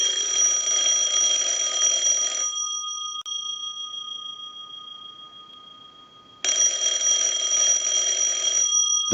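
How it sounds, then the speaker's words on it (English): A Northern Electric candlestick telephone's bell rings loud and close in two long bursts of rapid metallic clanging, separated by a few seconds of near silence on a repair bench. "So let's go ahead and ring the unit."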